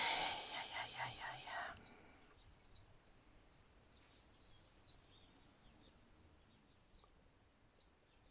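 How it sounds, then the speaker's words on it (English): Small birds chirp and call in short, scattered bursts outdoors, fairly distant and faint, during a tatting session; a brief soft whispery rustle comes near the start before the chirps continue alone. "Hear the birds chirping away."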